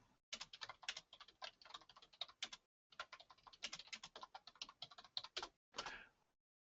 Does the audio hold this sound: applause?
no